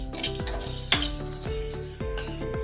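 Roasted sesame seeds are scraped out of a metal kadhai into a bowl, with a spoon knocking against the metal in several sharp clinks that ring briefly, close up, and no talking.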